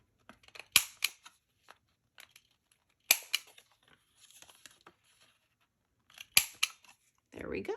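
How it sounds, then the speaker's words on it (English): Corner rounder punch snipping paper corners, three crisp, sharp snaps spaced a few seconds apart among soft paper rustling, close and quiet, with a brief voice at the end. "I'm going to just take my corner rounder and snip them off"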